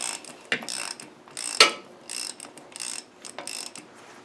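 A ratchet tightens a bolt on an LT230 transfer box, giving a series of short metallic clicking bursts in an irregular rhythm, close and fairly loud, with no talking.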